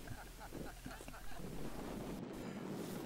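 Wind buffets the microphone in a steady, roaring wash of noise while canoes are portaged near the height of land on a northern tributary of the Kogaluk River, with a stronger gust rising in the second half.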